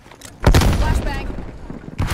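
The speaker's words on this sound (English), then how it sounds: "Flashbang" A flashbang grenade in Call of Duty: Black Ops Cold War, heard during a Nuketown team deathmatch. A loud, sharp blast hits at about half a second, then broad noise follows over the game's announcer voice, with another burst near the end.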